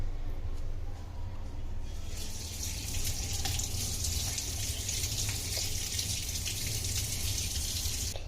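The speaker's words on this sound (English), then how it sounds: "wash it neatly, nicely, as there should be no any germs, because we eat this. So yeah, let's wash." Thyme leaves are washed under a running tap, with a steady gush of water into a sink that grows brighter partway through as the flow hits the leaves; the sound is faint and continuous.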